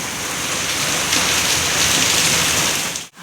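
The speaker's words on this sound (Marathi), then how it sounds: "असा पाऊस पडतोय रात्रीपासून." Heavy rain pouring down in a dense, steady roar, loud and close, with no voices.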